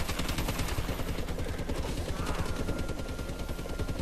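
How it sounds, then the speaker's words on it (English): Dense, continuous gunfire from a Call of Duty Advanced Warfare match, rapid automatic bursts filling the whole stretch at steady loudness with no pause. "He's trying to shoot me right now."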